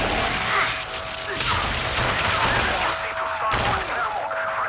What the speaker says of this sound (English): I'm just gonna dash grenades